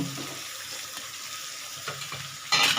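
Chicken curry being fried down in a pan, with onions in it, gives a steady close sizzle and soft stirring scrapes that grow louder near the end.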